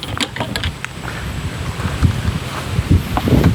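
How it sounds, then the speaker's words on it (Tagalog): Strong wind gusting across a golf course, a steady broadband rush with low rumbling buffeting against the microphone throughout, loud and continuous with no clear talk. "Ang lakas ng hangin."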